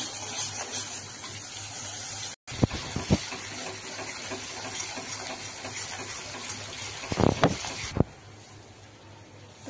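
Water used to rinse a mixer grinder bowl is poured into a kitchen pan of gravy, a steady splashing flow close by with a brief break and a few louder gushes, no talking.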